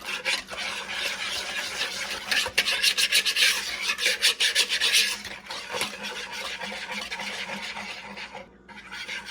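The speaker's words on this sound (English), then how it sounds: "so we're going to get that all stirred up in here" Banana pudding mixture stirred in a bowl, a steady close scraping and rubbing with brisk rhythmic strokes that swell in the middle and then ease off, with no talking.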